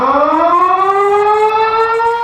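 An outdoor civil defense warning siren of the kind used in a city for significant weather wails loud and steady, its tone sliding slowly upward over a couple of seconds with no other sound around it.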